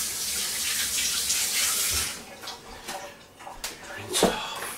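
Hands rinsed under a running kitchen tap in the middle of cooking beef stew, a steady broadband water hiss for about two seconds that then breaks into splashes and drips with a few brief knocks.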